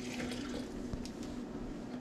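A little water is poured for homemade grape juice, a soft, continuous splashing trickle heard faintly and alone for about two seconds.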